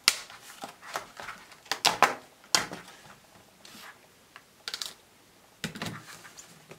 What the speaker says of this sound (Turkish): Şöyle kutusunu açalım,